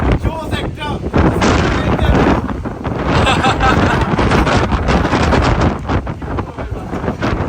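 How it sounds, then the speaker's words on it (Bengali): Strong wind roars and buffets against the microphone in loud gusts in Sri Lanka, with voices partly heard beneath it. "অস্থির অস্থির বাতাস"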